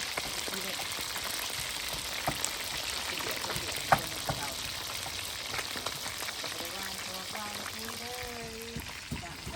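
Fish fries in a pan with a soft, continuous crackling sizzle, low in level, while people talk over it intermittently.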